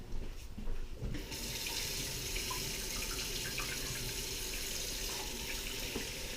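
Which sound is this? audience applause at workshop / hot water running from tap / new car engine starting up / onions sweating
hot water running from tap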